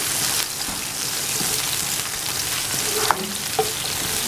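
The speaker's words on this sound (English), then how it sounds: "And then put the garlic. We're cooking outside because to get more light for you guys. Okay, so garlic, and then we're putting in the onion." Garlic and onion frying in vegetable oil in a pan outdoors, a loud continuous crackling sizzle with a couple of sharp clinks of a utensil near the end.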